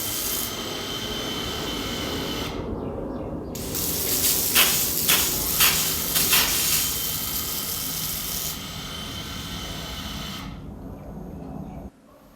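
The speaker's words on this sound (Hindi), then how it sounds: "आप सुन सकते हैं पंप की आवाज़।" An electric water pump controlled by a pressure switch runs with a steady rough hum, as a spray gun is switched on and off for watering a terrace garden. Bright hissing bursts come and go over it before the sound cuts off near the end.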